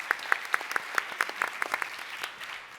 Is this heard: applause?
yes